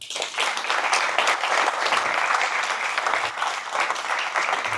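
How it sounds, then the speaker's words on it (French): A crowd at a 2025 New Year's greetings ceremony in Amiens applauds loudly and steadily, dense clapping filling the whole stretch without pause, close and full. "on peut les applaudir très très fort"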